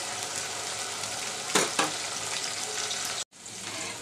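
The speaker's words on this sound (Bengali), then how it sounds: "পেঁয়াজটাকে আমি হালকা ভাজা করে নিব।" Onion frying lightly in a pan gives a steady, close sizzle, broken by two brief louder crackles midway and a sudden drop near the end before the hiss resumes.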